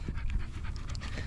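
A dog named Bella panting close by, quick steady breaths running without a break.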